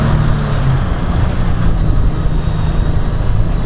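Toyota truck engine roaring at full throttle while climbing off-road with A-TRAC and the rear locker engaged, a loud, steady low drone sustained throughout with no talk.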